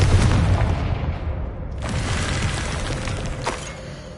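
A Confringo fire-blast spell in the Hogwarts Legacy video game goes off as a loud, dense boom. It is followed by a continuous rumbling roar that slowly fades, with a smaller burst near the end.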